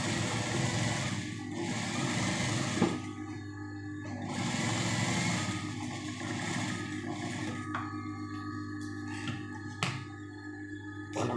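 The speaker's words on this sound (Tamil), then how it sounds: "ஒரு தையல் போடுங்க." A sewing machine stitching a blouse runs in a steady, continuous whir close up, with brief pauses and changes in speed and no talking.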